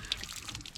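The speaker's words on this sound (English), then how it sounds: "We're just filling up our water tank to be able to have a lot of fresh water on a safari." Water runs into a fresh-water tank of about 60 liters as it fills for a safari in an African national park, a short, close, continuous splashing trickle with small drips.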